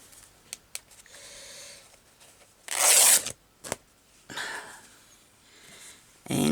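Fabric being torn by hand for a journal cover, a loud ripping burst of about half a second standing out among softer rustles, snips and handling noises, with a second, weaker rasp a little later.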